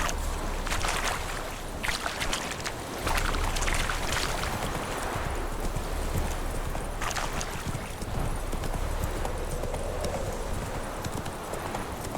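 Roach the horse clip-clops along steadily in The Witcher 3, a continuous rhythm of hoof beats on the ground running the whole stretch over a constant background.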